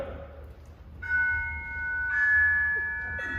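Bells ring in a sustained, clear tone that starts after a second and swells twice, moderately loud over a low background rumble.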